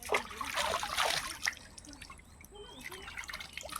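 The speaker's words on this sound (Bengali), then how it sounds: "কত পাথরের বাড়ি খাইয়া এই জলটা আর আইয়া, মানে এটা চলতি জল তো।" Running stream water trickling and dripping over stones outdoors, a soft close babbling with scattered drips, fairly quiet and steady with no talk.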